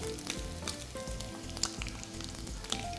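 Seasoned oil frying in a pan, a close continuous crackling sizzle with small pops, steady and alone without talk.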